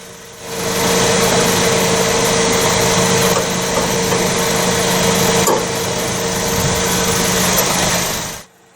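A 2017 Nissan March 1.2-litre inline-three petrol engine with manual gearbox hums steadily from inside the moving car, a constant droning whir with faint vibration that fades in, holds for about eight seconds, then cuts off abruptly.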